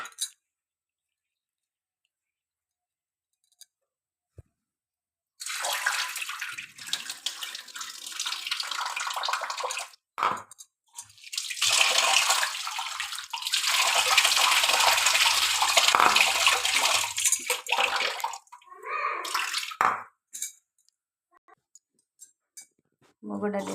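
Moong dal is rinsed under running tap water in a home kitchen: water gushes and splashes in bursts, with faint clinks from the bowl and quiet pauses between rinses.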